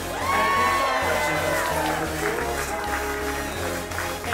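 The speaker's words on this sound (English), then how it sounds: "Next up, huge round of applause for Julie Miller." Crowd cheering and whooping at a wedding reception over loud thumping music with a steady beat, voices rising and falling throughout.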